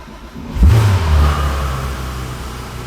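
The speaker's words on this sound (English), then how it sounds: "for you to hear the sound of the naturally aspirated Porsche engine" A naturally aspirated Porsche 911 GT3 RS engine fires up with a sharp, loud bark, then settles into a steady, rumbling idle that stays close and prominent with no talking.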